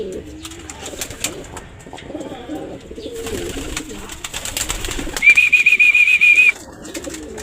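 Racing pigeons coo softly in low, throaty bursts, with a brief flurry of wing flaps and a thin whistle-like tone midway, nearby and fairly loud.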